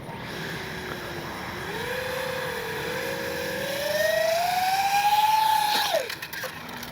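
A CNHL Horten 229 RC plane's electric motor runs up outdoors, a smooth whine rising steadily in pitch and loudness as the throttle is eased forward, then dropping away near the end.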